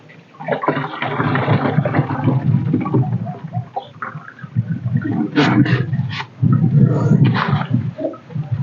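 Diluted pesticide solution pours and gurgles into a sprayer tank outdoors. It comes as a heavy, close, sloshing rush in two main bursts with brief clunks between them.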